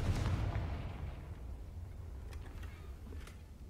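A Confringo fire spell blasts in the video game Hogwarts Legacy, a deep booming explosion at the start that rumbles and fades, with scattered smaller impacts and game effects after it.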